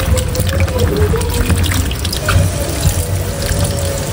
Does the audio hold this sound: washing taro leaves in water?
yes